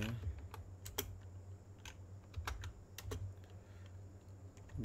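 Typing on a computer keyboard: a quiet, irregular run of close key clicks over a low steady hum, with no talking.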